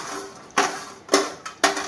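Kurkure rice snacks being stirred as they fry in a pan, giving four sharp scraping clatters at irregular intervals over a low, steady frying hiss.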